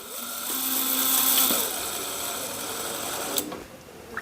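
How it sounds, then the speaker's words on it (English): A high-pitched power drill whines steadily, drilling holes through metal with a sharp metallic edge, then winds down near the end. "it takes forever to drill this though"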